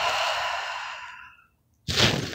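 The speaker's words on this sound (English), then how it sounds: "Exhale, shoulders, chest, belly." A deep, steady exhale from three-part yogic breathing, a long breathy rush that fades out over about a second and a half, then a brief pause before the next breath begins sharply.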